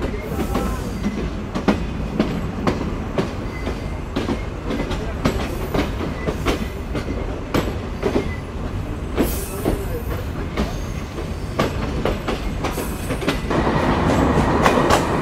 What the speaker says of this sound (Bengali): একটা বেজে 26 মিনিটে আমাদের ট্রেন ছেড়ে দিল চুয়াডাঙ্গা স্টেশন